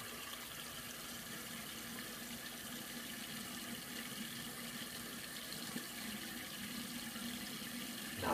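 A bathroom tap runs steadily while someone rinses after a wet shave, a constant hissing stream of water. It holds at an even level throughout and ends with a brief louder splash.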